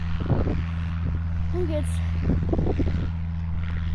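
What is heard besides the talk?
propeller plane launching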